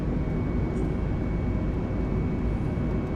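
Airliner engines hold a steady, dense roar at climb thrust in Microsoft Flight Simulator 2020, on a flight from Gatwick to Innsbruck, with no pauses and no talk.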